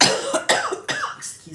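Repeated harsh coughs from a man indoors, three or four close bursts over a second and a half, near and fairly loud with no talking.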